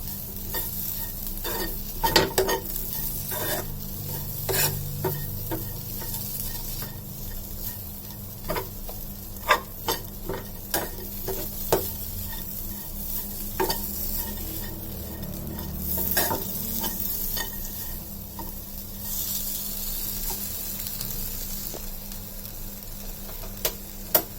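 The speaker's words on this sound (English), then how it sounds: "Now I'm adding 3 garlic cloves and a small piece of ginger. Saute it for a few seconds." Garlic cloves and a small piece of ginger sauté with tomato in a pan, giving a steady soft sizzle broken by scattered clicks and taps of stirring throughout.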